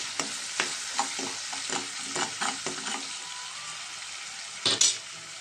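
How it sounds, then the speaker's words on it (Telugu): Onions with salt fry in a pan in a continuous crackling sizzle, punctuated by regular spoon stirs and scrapes, with a brief louder clatter near the end. "చూడండి, ఉల్లిపాయలు బాగా మగ్గిపోయినాయి."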